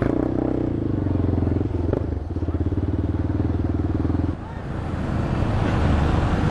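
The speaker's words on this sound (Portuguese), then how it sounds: "peguei a motoca aqui, mano. Minha antiga moto, velho." A motorcycle engine runs steadily while being ridden through favela streets, a loud continuous drone with wind buffeting; the engine note drops briefly partway through, then builds again.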